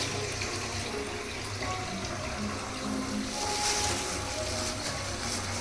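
Rohu fish rinsed under a running kitchen tap, a steady wash of flowing water splashing into a sink, continuous and close with no voices.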